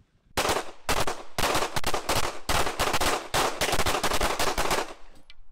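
Rapid bursts of close, loud gunfire at a test of soft Level IIIA body armor on a dummy, sharp shots in quick strings separated by brief pauses, with no talking.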